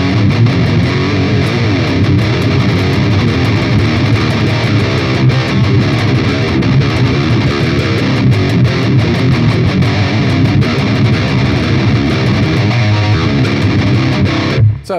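An electric guitar played through the Line 6 POD Express XXL amp model gives a loud, heavily distorted tone, with chords and riffs sounding continuously and no talking until an abrupt stop.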